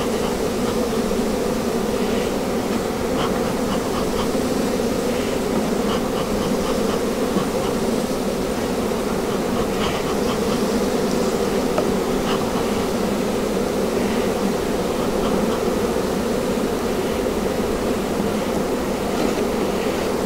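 Honeybees buzz in a steady, dense drone during a June beehive frame inspection, loud and continuous throughout with no talking.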